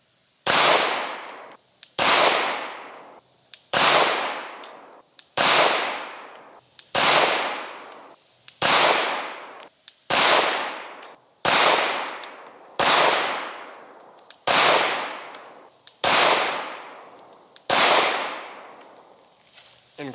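Pistol shots strike bulletproof glass in a steady series, a dozen sharp, loud cracks spaced evenly about every second and a half, each with a quick ringing decay.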